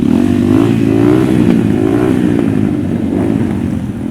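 Motorcycles rev loudly and continuously at a charity motorcycle rally in the town centre of Kolomyia, with two- and three-wheeled retro and modern bikes; a steady close engine drone with rising and falling throttle and some clatter.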